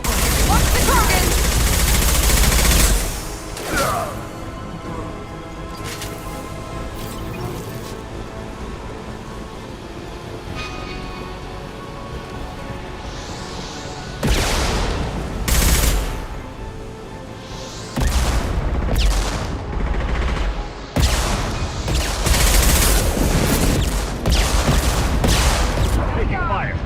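Gunfire from the Mass Effect Legendary Edition video game: loud sustained weapon fire and bursts, with heavy blasts opening and repeated sharp volleys in the second half, under a dense battle mix with voices.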